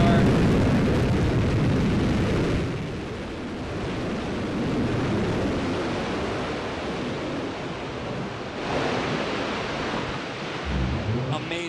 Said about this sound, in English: Amazing, another picture-perfect landing for New Shepard rocket booster.